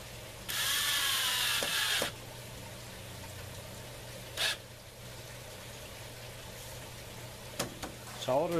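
A ratchet strap is cranked tight around horizontal aquaponics grow tubes. It gives a loud burst of rapid clicking near the start, followed by a few faint knocks and clicks against low background noise.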